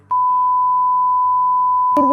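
A steady electronic phone-call notification tone in Gas Station Simulator, one unbroken beep held for about two seconds over a faint pulsing low hum, ending in a brief louder burst.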